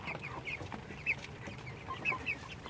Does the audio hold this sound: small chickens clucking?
yes